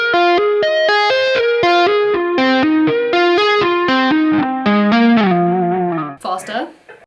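A complete slow electric guitar lick exercise through distortion and chorus effects, a long even series of loud, close picked notes winding gradually downward, closing with a short burst of noisy string scrape.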